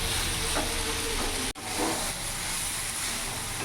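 Potato and soybean chunks sauté in a pan without water, a steady close hiss and sizzle with a brief dip partway through, no talking.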